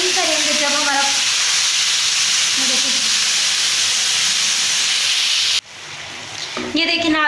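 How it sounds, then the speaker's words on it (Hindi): Marinated chicken pieces hit a hot pan, setting off a loud, steady hissing sizzle that drops sharply, then builds again, with a voice speaking at the start and near the end. "अब हमें इसके अंदर चिकन डालना है।"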